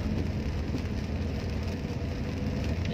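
Steady rain pours onto the road during a car drive, a dense, even hiss of drops and tire spray with a low rumble underneath, constant and close throughout with no talking.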